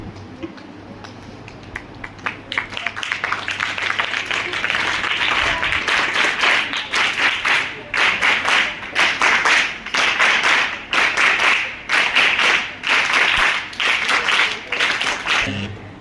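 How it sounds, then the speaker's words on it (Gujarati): Applause from an audience at a child-protection event held at an ashram school, with dense, continuous clapping swelling after a quiet start and holding steady in loud rolling waves. "તો એમનું પણ તાળીઓથી આપણે સ્વાગત કરીને આંટી પહેરાવીને સલાવો સાહેબ."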